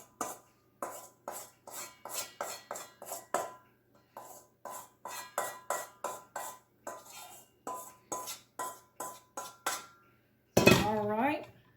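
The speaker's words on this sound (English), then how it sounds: "So I've got a spoon. Let me scrape it out" A metal spoon scraping strawberry crunch mixture into a casserole dish gives a rapid series of sharp, close clinks and scrapes against the dish, then a brief burst of louder clatter at the end.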